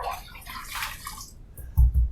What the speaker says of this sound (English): Let me throw a little more water on my face.